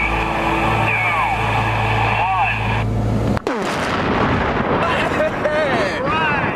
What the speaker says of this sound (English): This is just a big boom.